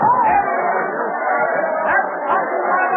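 A crowd murmurs and chatters in a steady, indistinct babble below an open window in an old Boston street scene, the mass of voices continuous and fairly loud with no single speaker standing out.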